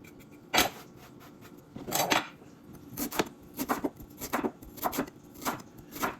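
A knife mincing ginger on a cutting board gives a run of sharp, separate chopping taps, close and fairly quiet, coming in small uneven clusters with short gaps between them.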